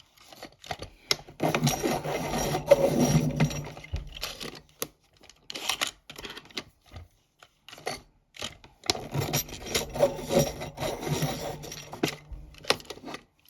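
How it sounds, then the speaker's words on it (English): Colored pencils are sharpened in a Dahle 133 hand-crank sharpener, producing two close bursts of gritty grinding and rattling separated by a short pause of quieter clicks and handling noise. "I'm going to sharpen these first. I'm using my Doll 133."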